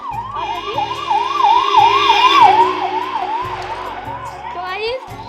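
An ambulance siren wails close by in a rapid rising-and-falling pattern, loud and steady as it passes, with a low droning engine underneath.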